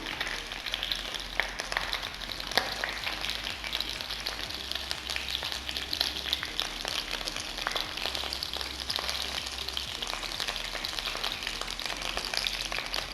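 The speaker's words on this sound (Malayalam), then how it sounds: "ചിക്കൻ ഇവിടെ ഫ്രൈ ആവാൻ തുടങ്ങിയിട്ട് 10 മിനിറ്റായി." Chicken wings sizzle steadily in hot oil for spicy honey wings, a dense, crackling fry that stays loud and even throughout with no voices.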